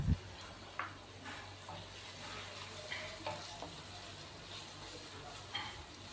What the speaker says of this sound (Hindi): तो मैं इसके अंदर हाफ़ कप पानी शामिल करूँगा।